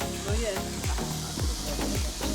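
Sausages, mushrooms and bacon sizzle steadily in a pan for a campsite breakfast, with a few soft clatters of stirring and faint voices in the background.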